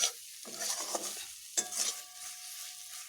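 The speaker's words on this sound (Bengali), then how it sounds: "মশলাটিকে বেশ ভালোভাবে আমি কষিয়ে নিচ্ছি।" Masala for a taro curry is fried and stirred in a pan, with a few scraping spatula strokes over a faint sizzle, close and quiet, and pauses between the strokes.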